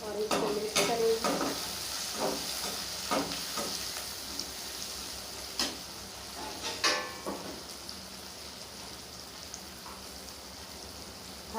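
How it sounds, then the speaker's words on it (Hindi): Ginger and garlic sizzle and fry in a pan while being stirred, with a steady crackling hiss broken by scraping stirs and clinks throughout. "अब हमने इसके अंदर अदरक लहसुन डाल दिया और इसको मिक्स करेंगे।"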